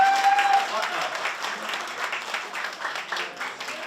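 Audience applause at a national ghazal festival discussion event in a hall, with a dense, steady patter of many hands clapping together across the whole span and a brief tone at the very start.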